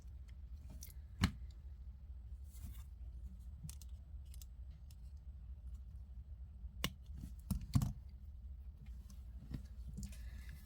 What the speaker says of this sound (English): And I'm going to cut the excess off.